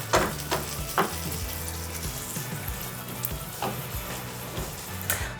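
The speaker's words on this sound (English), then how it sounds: "So I'm gonna mix everything." Alicha, an Eritrean stew, being stirred in a small pot: a soft steady simmering sizzle broken by several sharp spoon scrapes and knocks against the pot, close up, with no talking.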